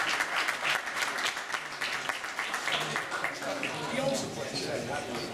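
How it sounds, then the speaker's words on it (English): An audience applauds steadily for Butch Yamali at a Toys For Tots show, a dense sustained wash of clapping with voices talking and calling out underneath throughout. "give me a round of applause for Butch Yamali"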